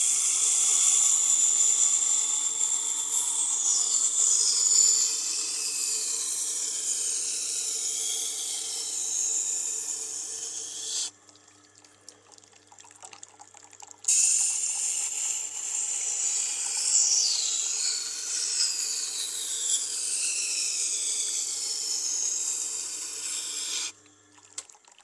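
A knife is ground on a Tormek sharpener, producing a continuous high, scraping grind with shifting whining tones, broken by two short pauses, and no one speaking.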